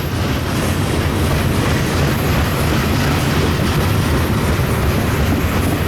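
A westbound freight train rolls past on the Needles Subdivision, a loud continuous roar of wheels and rail noise heard close by without letup.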